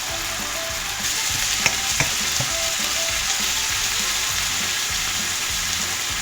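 Duck spring roll filling frying in a pan with a little sesame oil, a steady close sizzle and crackle running throughout with a few sharp pops and stirring clinks.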